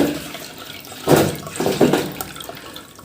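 Clean water poured from a bucket onto a floor during house cleaning, a couple of short close splashing gushes over a quiet background.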